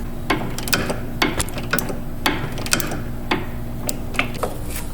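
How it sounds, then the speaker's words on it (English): Ratchety metallic clicks from a tool turning a sway bar link nut on a Saturn Ion, a dozen or so sharp close ticks at an uneven pace over a low steady hum. "I'll just put a needle nose vice grip on it to be able to turn the nut off."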